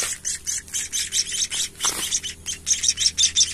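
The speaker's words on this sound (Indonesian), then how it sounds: "Dia bawa sarang burung, dan ini isinya sih ini, katanya sih ini burung emprit kaji." White-headed munia chicks in a nest give rapid, repeated high chirps in short bursts, close up, with a brief quieter pause partway through.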